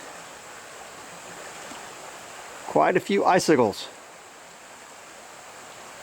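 A river flows through a winter landscape as a steady, soft rushing hiss in the background, with someone briefly speaking over it midway.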